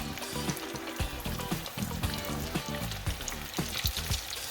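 Chicken wings deep frying in hot oil in a pan give a constant dense crackling sizzle with bubbling pops, steady and moderately close throughout, with no talking.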